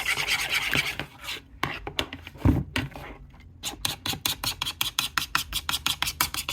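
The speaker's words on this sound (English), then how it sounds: "One-handed stirring. Scrape all the sides." A spoon stirs a cinnamon-spiced Thanksgiving dish and scrapes around the sides of a pot, loud and close, first in longer rubbing strokes, then in a quick run of rhythmic rasping scrapes.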